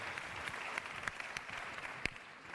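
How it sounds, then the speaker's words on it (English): A town hall audience gives a round of applause, a steady wash of many hands clapping at moderate distance with a few sharper individual claps standing out, and no talk over it. "Let's give them a round of applause."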